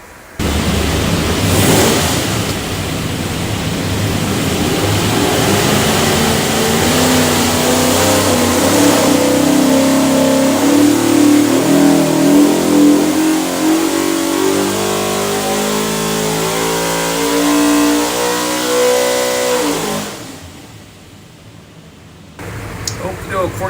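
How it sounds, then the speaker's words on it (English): Boost-ready 363ci small block Ford V8 with solid roller lifters on an engine dyno, built for an '84 Fox Mustang, holding a loud sustained pull with rising pitch for about twenty seconds before cutting off. "We'll go in there and make a run."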